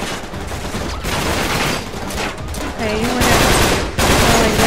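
Rapid bursts of gunfire from a firefight in Uncharted 3 rattle on continuously, loud and close, while someone briefly talks over the shooting.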